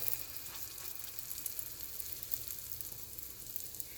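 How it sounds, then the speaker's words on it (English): Hotteok dough fries in a nonstick pan with a steady, even sizzle, close and continuous with faint crackles throughout and no voices. "And you're going to let it fry."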